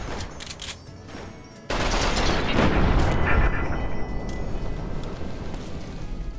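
Bozar light machine gun in the Fallout video game, a dense sustained burst of rapid automatic fire with a heavy rumbling roar that starts abruptly after a few lighter shots, loud and close with no talking.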